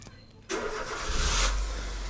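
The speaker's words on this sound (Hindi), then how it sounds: "ये देखो इंजन का साउंड देखो कितना अच्छा" A used car's engine catches and then runs on, a close, steady mid-pitched hum with no voices heard.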